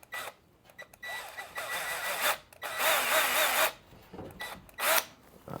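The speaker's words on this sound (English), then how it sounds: "Now, I'ma drill some holes in each leg." A power drill bores holes into greenhouse legs in several loud whining bursts of a second or so each, separated by short pauses, close by with no talk.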